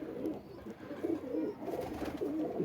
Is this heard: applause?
no